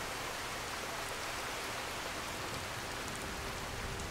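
Steady, even hiss of heavy rain pouring down with no pauses and no voices, in Skyrim Special Edition.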